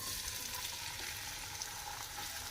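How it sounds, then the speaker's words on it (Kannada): Finely chopped onions going into hot oil in a pan, giving a steady, close sizzle and hiss that fills the moment without pause or talk. "ಇವಾಗ ಎಣ್ಣೆ ಬಿಸಿ ಆಗೈತಪ್ಪ ಅಂತಂದ್ರೆ ನಾವು ಸಣ್ಣ ಕಟ್ ಮಾಡಿದಂಥ ಉಳ್ಳಾಗಡ್ಡಿ ಹಾಕೊಂಬಿಡೋಣ ಅದ್ರೊಳಗೆ"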